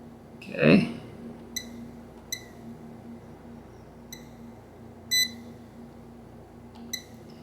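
A bench power supply beeps as it hits its current limit while a homemade computer board is powered up, giving several short, faint high beeps spaced irregularly over a quiet background hum, with a brief bump of handling noise near the start.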